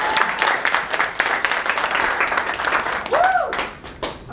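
An audience at a YouTube creator day panel in Atlanta claps and cheers in steady applause lasting several seconds, with a brief whistle-like tone near the end.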